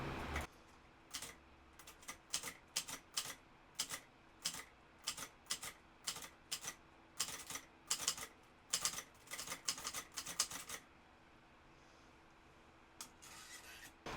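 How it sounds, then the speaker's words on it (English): Steady clacking of typewriter keys, a brisk run of sharp strikes in an uneven rhythm, then a pause and a few final taps, close and fairly quiet. "I'm gonna make some typing on it."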